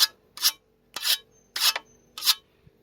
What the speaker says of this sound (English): sharpen the blade